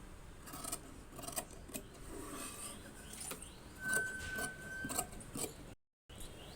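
Scissors snip through blouse fabric at close range with soft, crisp cutting strokes and rustling cloth, repeated steadily.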